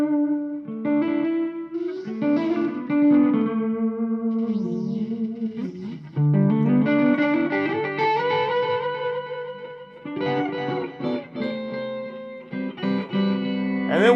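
Electric guitar run through a $99 delay pedal, sustained chords and melodic lines trailing repeating echoes, loud and continuous with no talking.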